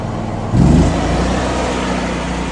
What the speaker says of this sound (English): Just gonna start up nice and easy here.